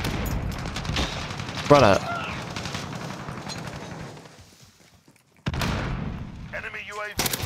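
Rapid bursts of automatic rifle gunfire in Modern Warfare 2019, loud and close, with scattered shots and thuds, a lull of near silence, then renewed firing. Someone talks over part of it.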